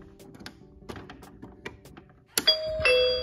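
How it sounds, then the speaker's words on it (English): A series of small plastic taps and clicks comes from a toy Barbie Totally Real House, followed by a bright electronic two-tone doorbell chime that rings out near the end. "That's the doorbell."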